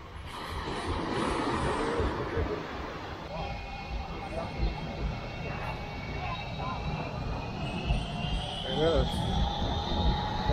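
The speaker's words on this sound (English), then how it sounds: "We've already seen a big plane come in." A distant airplane landing at Maho Beach, St. Martin, its jet engine whining and rumbling steadily, rising slightly in pitch, with people talking nearby and faint outdoor noise.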